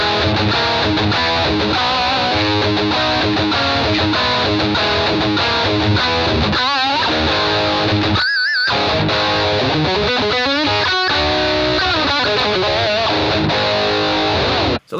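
An electric guitar plays through a Boss GT-1000 multi-effects rig with delay and reverb switched off, a loud, continuous distorted line of notes and chords that breaks off briefly near the middle and cuts out abruptly at the end.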